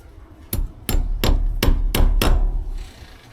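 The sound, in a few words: hammering to fasten a TV cable to the wall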